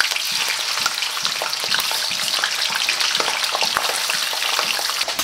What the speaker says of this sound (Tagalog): ipipirito natin siya ng bahagya